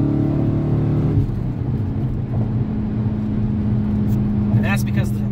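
BMW car engine while cruising, its steady drone shifting as the throttle opens, loud and continuous, with a voice speaking over it.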